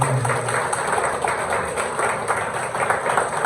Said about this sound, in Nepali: हामी सबैजनाले ताली बजाएर उहाँलाई धन्यवाद